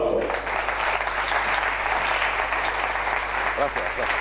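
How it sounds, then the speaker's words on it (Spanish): A conference audience bursts into sustained applause, dense clapping throughout with a voice briefly audible over it. "Un fuerte aplauso"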